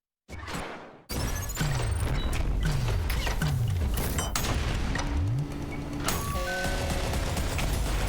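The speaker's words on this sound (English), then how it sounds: "Shooting the saws early so they can just bounce before being magnetized" Rapid gunfire and mechanical clatter from weapons launching spinning saw blades in a fast-paced first-person shooter speedrun, loud and continuous, with bouncing metallic hits and whirring sweeps throughout.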